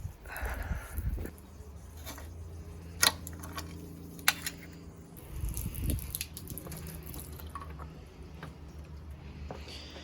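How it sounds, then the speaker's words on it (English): Water from a garden hose runs steadily into a car radiator, with a faint continuous hum underneath and a couple of sharp ticks or drips standing out; no one speaks. "now I'm going to go and fill the radiator up with water"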